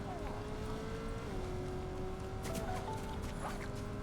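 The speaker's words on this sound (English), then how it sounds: "I can hear a car." A car engine drones in a Fortnite match, a continuous motor hum whose pitch slides slightly, heard over a busy game soundscape with scattered clicks and effects.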